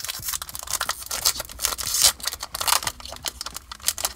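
A Pokemon Topps Series 2 booster pack wrapper is torn open by hand: close, crinkly foil rustling and ripping in irregular bursts, with no talk.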